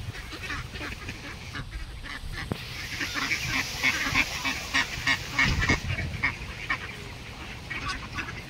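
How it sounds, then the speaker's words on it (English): A crowd of ducks and geese honk and quack while being fed, an overlapping, busy chatter of calls close by with outdoor background noise. "Just so many ducks."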